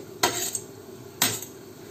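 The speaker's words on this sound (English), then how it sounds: "So I'll give it a little stir." Two scraping stirs of a spoon through bottle gourd and prawns as chilies and coriander go in, each a brief clatter against the pan, close and alone.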